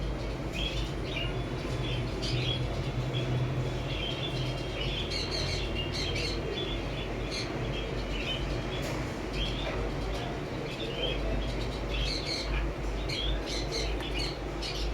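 Pet birds in a home aviary squawk and chirp continuously, a dense overlapping chorus of short calls close by, with no talking.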